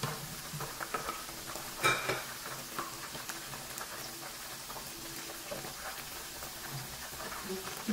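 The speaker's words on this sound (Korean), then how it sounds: "기포가 막 생기면서 익어가고 있어요." Chicken pieces deep-frying in oil for lazijī, a steady bubbling sizzle throughout with occasional clicks and stirring clatter, close and moderately loud.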